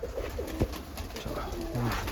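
Pigeons at a coop coo softly in low, repeated throaty calls, fairly close and steady across the stretch, with no one speaking.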